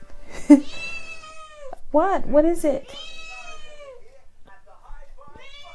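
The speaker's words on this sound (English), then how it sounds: "Oh, my cat's meowing." A house cat meows several times, drawn-out and wavering calls with a quick cluster of cries in the middle, heard close over a person talking nearby.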